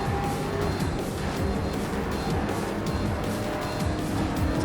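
A race car slides through a corner in the Grid Legends racing game, tires squealing continuously over a loud, steady engine roar with no voices.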